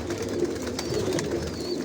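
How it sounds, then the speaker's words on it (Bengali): Racing pigeons of foreign breeds coo in low, steady rolling murmurs close by, several birds overlapping continuously, with faint wing rustles and chirps above. "এগুলো সব বিদেশি কবুতর"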